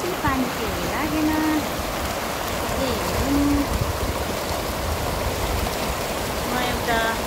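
Mechi River stream flowing steadily, a continuous broadband rush of water filling the whole stretch at a constant level, with faint birdlike tonal calls and voices appearing briefly over it.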